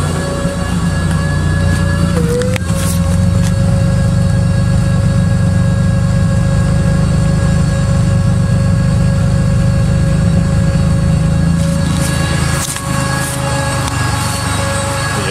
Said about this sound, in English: I still hear a little bit of sputtering.